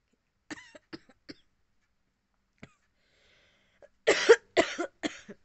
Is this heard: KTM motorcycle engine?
no